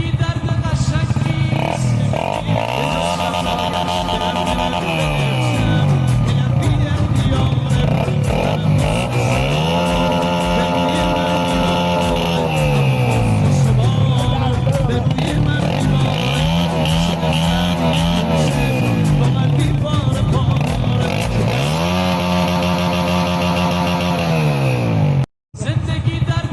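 Loud motorcycle engines rev up and down in repeated rising and falling sweeps as riders drift, with tire noise and clatter, close and continuous throughout.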